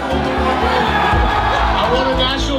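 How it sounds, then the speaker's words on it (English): A large crowd cheers and roars on a sleeting night in Toledo, Ohio, a loud, unbroken wall of voices with steady low thumping underneath and people talking over it. "look at this goddamn crowd, buddy"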